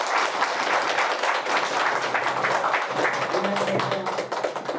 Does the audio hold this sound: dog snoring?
no